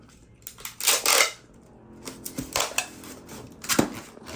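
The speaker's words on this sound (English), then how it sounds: "just tape this up so that there's no leak" Packing tape pulled and pressed onto a closed packing box to seal it, with a few bursts of tape screech and crinkle, then scattered taps and rustles, close up with no talk.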